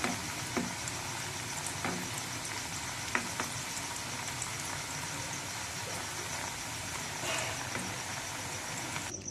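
French fries sizzle steadily in hot oil as they crisp, a dense, even hiss with occasional soft pops and faint clinks, close and continuous with no talking.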